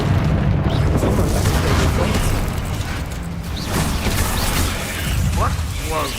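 A Bombarda blasting spell in Hogwarts Legacy, with a heavy rumbling boom and mechanical clatter rolling on loudly for several seconds amid game effects, and a voice speaking over it.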